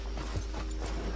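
A horse's hooves clop in a video game, several soft, evenly spaced steps over a steady low background hum, with no talk.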